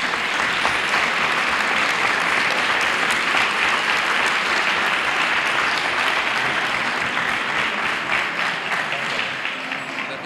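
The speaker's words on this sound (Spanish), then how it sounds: "Un fuerte aplauso para ellos." Sustained, loud applause fills a hall at a Three Kings coronation ceremony in El Trobal, the dense clapping of a sizeable audience continuing unbroken and fading slightly near the end.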